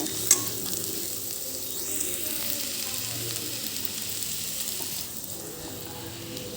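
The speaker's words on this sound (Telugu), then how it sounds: "వేగిపోయింది కదండి" Broad beans frying in a pan give a steady, close sizzle that runs throughout, with a single small clink near the start and a faint stir partway through.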